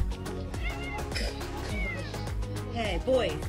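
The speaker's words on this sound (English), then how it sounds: "This cat loves catnip." A cat meows repeatedly near a car in excited, drawn-out cries over a background of other voices, with a sharper wail toward the end.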